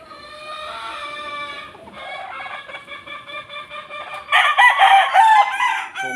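Chickens in a battery cage cluck steadily and close, then a loud rooster crow rises over the flock near the end.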